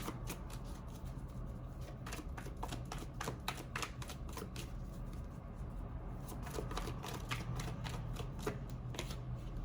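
Tarot deck being shuffled by hand, a close, quiet run of rapid riffling card flutters and taps in irregular bursts, with no one speaking.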